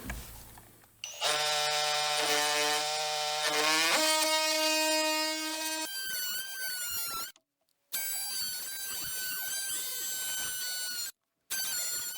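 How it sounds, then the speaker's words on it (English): An oscillating multi-tool fitted with a wood blade buzzes steadily as it cuts a notch in a wooden deck post, its high whine shifting pitch as it bites in, with two brief pauses before the tool resumes. "Now I'll use the oscillating cutoff tool with a wood blade to just chip this out real quick"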